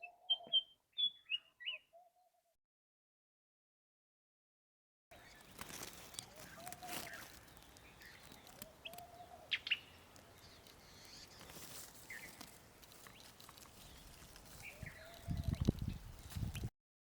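A wild bird in a forest gives faint, brief chirps near its nest, scattered across the quiet stretch between light rustling and footstep-like sounds.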